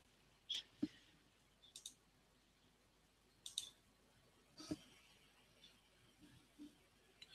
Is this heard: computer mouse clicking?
yes